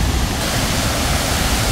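A waterfall in Chiang Mai pours into the pool below, a steady, dense broadband roar of rushing water that fills the whole moment at close range with no break.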